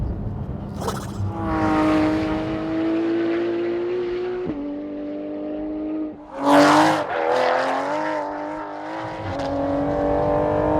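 A loud sports car engine, from an Aston Martin GT12, Porsche 991 GT3 RS or McLaren 650S, roars with a rich, throaty tone, surging and revving sharply midway before settling back into a steady growl.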